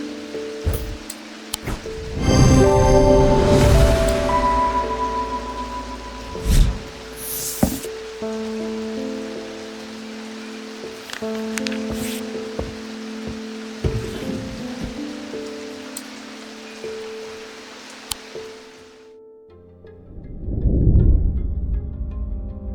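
Steady rain ambience from the video game Strange Antiquities hisses continuously, broken by a few loud crashing bursts, then drops out near the end before a final rumbling swell.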